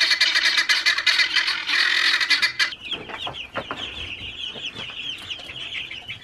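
Broiler chickens in a backyard pen cluck and squawk nervously, a busy overlapping flock chatter that turns into scattered individual clucks and calls close by.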